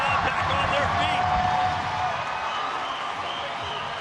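A boxing arena crowd roars and cheers after a late flurry of punches, a dense, sustained wall of noise with an announcer talking over it.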